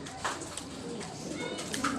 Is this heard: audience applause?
no